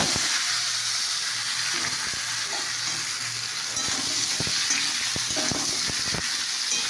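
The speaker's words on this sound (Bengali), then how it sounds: "আলু কাটা একটু ভেজে নিই" Cut potatoes fry in a wok with a steady, close hiss and sizzle, punctuated by intermittent clicks and scrapes of stirring, with no talking.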